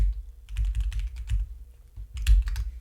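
Rapid clatter of keys on a computer keyboard, bursts of close, crisp keystrokes with short pauses between runs, no voice over them.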